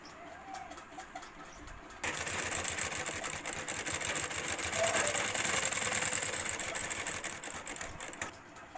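A sewing machine stitching the edges of a fabric grocery bag starts after a quiet moment and runs in a steady, fast, close whirring chatter for several seconds before stopping.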